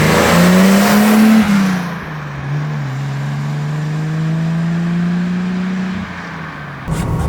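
A BMW Alpina B2 3.0 Coupé engine revs up hard as the car accelerates on the road, pitch climbing then settling into a steady loud drone, close and continuous with no talk.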